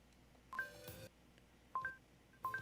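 A malfunctioning old phone sounds three separate bursts of DTMF dialing tones, each a short paired beep about a second apart, the first followed by a brief noisy rush, fairly quiet with no talking.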